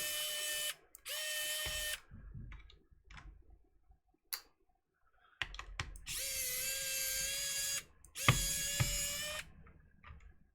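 A 12-euro magnetized screwdriver from Action, used on a modded Game Gear potentiometer, gives several loud bursts of high-pitched whirring, two short ones early and two longer ones later, with clicks and quiet gaps between.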